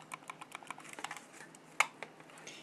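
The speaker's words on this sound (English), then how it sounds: "An original IBM PS2 mouse. It's a really nice feel and clicky sound to it." An original IBM PS/2 mouse clicks close by at a quick, irregular pace, with one sharper click standing out. Each click is crisp and light, with no talking.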